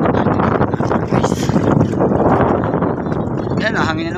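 Strong wind buffets a small floating-store boat on the water, a loud, heavy, rumbling roar pressing on the microphone with gusty surges throughout, while a voice talks over it.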